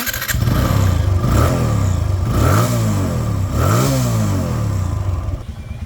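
A second-hand TVS Apache RTR 160 4V motorcycle engine runs loud and close, with three or four throttle blips rising and falling over a steady exhaust drone before settling back.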